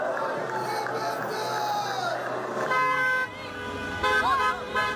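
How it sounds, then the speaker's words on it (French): Car horns toot in nearby streets during a crowd celebration in Algeria after Bouteflika's resignation, with short honks and a sustained blare rising over the general street din. "Dans les rues adjacentes, concert de klaxons."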